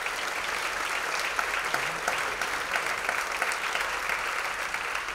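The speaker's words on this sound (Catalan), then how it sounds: "Un altre fort aplaudiment per la Maia Miranda, si us plau." An audience at a theatre season gala gives sustained, dense applause, a steady roar of many clapping hands throughout with no talk.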